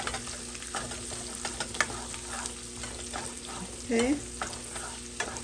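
Fresh chopped garlic tossed into a hot pan for a shrimp and broccoli dish, a steady sizzle with scraping stirs and clinks, a short spoken word at the start.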